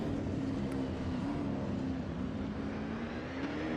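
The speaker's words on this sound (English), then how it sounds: "JK is just whipping that Holden supercar around the track" A radio-controlled Holden supercar model races around the track at a Race of Champions event, its small engine giving a steady, continuous whine that holds at an even pitch throughout.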